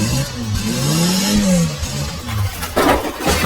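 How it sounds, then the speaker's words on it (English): A cartoon monster truck engine revs loudly and keeps rumbling as the truck crushes cars, a close mid-pitched engine drone that rises and falls, with a rougher crunching burst near the end. "Want to see what a monster truck does to cars?"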